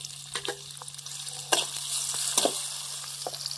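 Tomatoes tossed into a frying pan of onions, with a steady hiss of sizzling oil and a few sharper stir or scrape bursts, close and moderately loud, with no talking.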